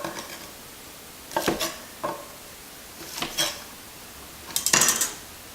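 A knife trims fresh green beans on a cutting board in a handful of separate crisp chopping knocks and clatters, with quiet pauses between the cuts.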